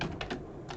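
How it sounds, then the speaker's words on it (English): Quick computer keyboard typing, a few soft key clicks close to the microphone, alone with no talk. "That's the keyboard."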